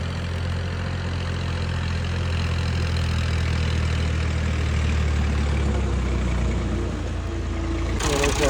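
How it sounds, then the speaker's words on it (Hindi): A tractor engine idles and rumbles steadily on a farm as it pulls away, its heavy low drone continuous and fairly loud throughout before a brief change near the end. "ट्रैक्टर वाले भाई साहब वापस जा रहे हैं।"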